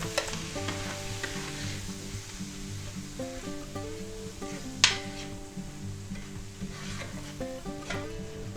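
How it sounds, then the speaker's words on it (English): A spoon stirring about two tablespoons of all-purpose flour into a sizzling pan of butter and mushroom juices, a faint steady scraping and frying hiss under soft background music, with one brief clink midway. "Now we'll go ahead and mix that in."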